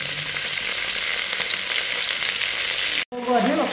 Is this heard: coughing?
no